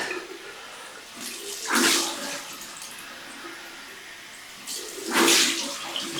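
Cold water runs steadily from a bathroom tap while a Merkur Futur double-edged razor is rinsed, with two louder splashing surges as the blade passes under the stream.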